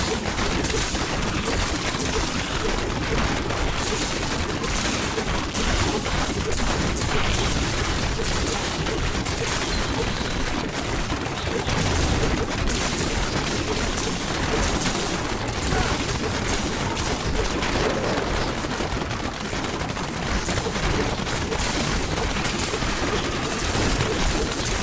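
A Demon Hunter's shots fire in Diablo 3 as a relentless barrage of rapid, crackling impacts and booms. They are loud and continuous, blending with a busy game soundscape and faint talk.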